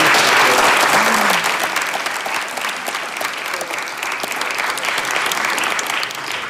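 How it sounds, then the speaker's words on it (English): Audience applause at a university inauguration symposium session for the speakers, a sustained dense clapping from a crowd at steady volume for the whole stretch, with no talking. "let's give another round of applause to all of the speakers"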